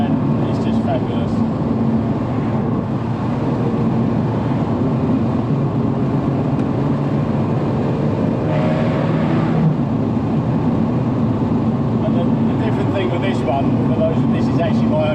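A Ferrari F355 engine drones steadily while the car is driven, a loud continuous rumble heard from close by with a brief swelling rush midway.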